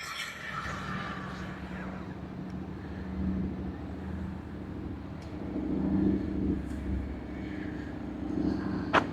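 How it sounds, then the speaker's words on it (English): A motorcycle passes by on a road, its engine drone rising and falling at moderate distance while someone speaks over it. "Wait for that motorcycle to go by."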